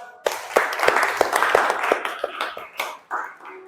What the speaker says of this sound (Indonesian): Beri aplaus, tepuk tangan.